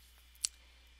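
A single faint computer mouse click in a quiet room, one short sharp tick with nothing else around it.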